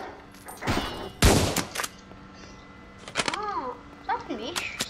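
Guns fire in the Roblox video game: a few loud, sharp bursts come early, followed by scattered electronic chirps and warbling game sounds.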